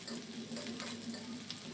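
Whole cumin seeds and finely chopped onion sizzling in hot oil in a pan, a steady close frying hiss with faint stirring, no talk.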